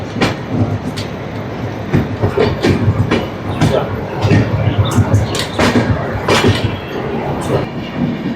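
A Kirandul passenger train, number 58501, rolls into Marripalem station with rhythmic wheel clicks over rail joints and sharp metallic clanks, close and fairly loud, alone without talk.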